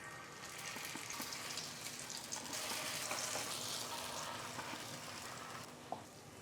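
Marinated potatoes fry in a little oil in a frying pan, a soft, steady sizzle with faint watery bubbling throughout and a light clink near the end.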